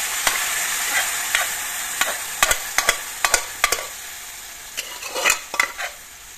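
Fish curry with boiled cabbage being stirred in a pan, giving a steady soft sizzle broken by light, irregular scrapes and taps of the spoon against the pan, close by and with no talking.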